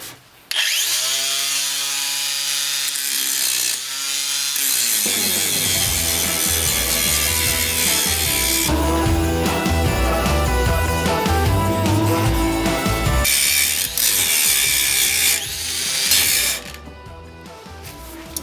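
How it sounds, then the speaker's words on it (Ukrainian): A Bosch cordless angle grinder whines loudly and steadily across most of the clip, with harsh metallic grinding on metal that surges and shifts as pressure changes, no voices. "давайте спочатку попробуємо, як вона шліфує метал"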